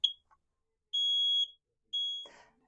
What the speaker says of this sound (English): you should test all of your smoke and carbon monoxide alarms in your house